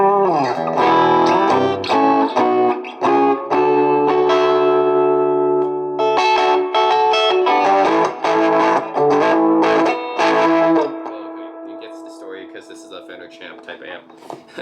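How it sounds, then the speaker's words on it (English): Yamaha Revstar RSP20 electric guitar played hard through an overdriven amp, gritty distorted riffs and sustained notes that ring out and fade at the end. "It gets pushed into overdrive pretty easily if I push the amp playing hard."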